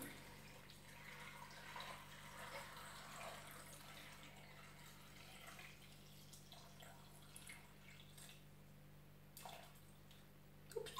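Water trickles and splashes into a cooking pot at close range for broth, a soft uneven pour with drips, fairly faint and with no voices.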